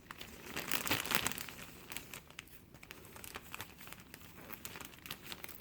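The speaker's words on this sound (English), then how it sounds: "Okay, and then I'm going to tape it off." Plastic tape is wrapped around plastic sheeting on an air layering of a lime tree, giving close crinkling and tearing sounds that are loudest at the start and then settle into steady rustles and small crackles.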